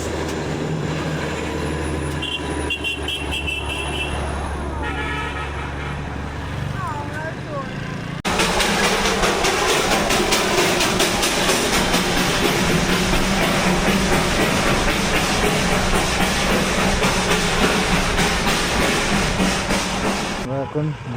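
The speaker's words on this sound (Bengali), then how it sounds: "বিখ্যাত টয় ট্রেনের সাথে" Darjeeling toy train passes near Ghum station, a loud, close rumble and clatter of carriages lasting over ten seconds, preceded by quieter road and vehicle sounds, with people talking in the background.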